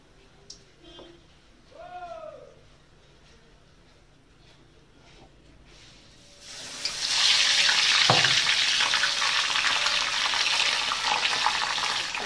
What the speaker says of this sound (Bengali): বেশি ভাজা যাচ্ছে না, একটা করেই ভাজতে হচ্ছে।